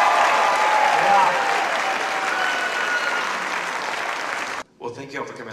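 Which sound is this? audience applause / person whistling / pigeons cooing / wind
audience applause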